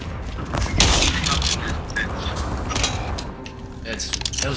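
Gunfire in Call of Duty Modern Warfare 2 comes as rapid bursts of shots and booms during a multiplayer match, loud and crackling, with players talking over it.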